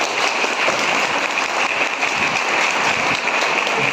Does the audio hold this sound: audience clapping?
yes